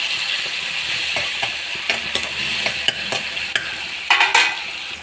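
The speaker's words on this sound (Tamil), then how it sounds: "தக்காளி நல்லா வதங்கிட்டோங்க." Tomatoes frying in a pan for a South Indian kovakkai poriyal, a steady bright sizzle with a spatula scraping and stirring in repeated strokes, close and loud.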